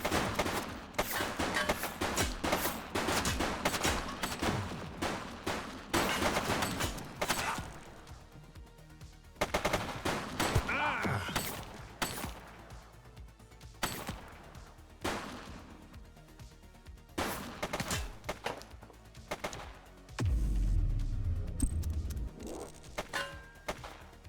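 Gunfire in The Precinct, a police video game: bursts of sharp shots come in clusters and scattered single cracks over roughly twenty seconds, alongside thuds and a heavy impact near the end.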